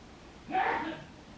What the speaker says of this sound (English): Excuse my father sneezing.